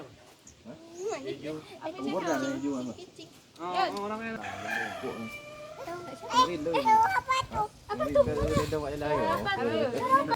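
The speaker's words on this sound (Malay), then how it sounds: "Ini suara ayam kayak mana?" A rooster crows in a village in Tangse, Aceh, near rice fields, its drawn-out calls rising and falling close by, mixed with children talking and playing throughout.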